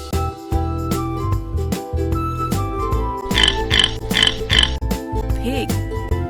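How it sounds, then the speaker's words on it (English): A pig grunts and oinks in several short bursts against a music bed, mid-loud and fairly close, following a child-style spoken animal name. "Pig."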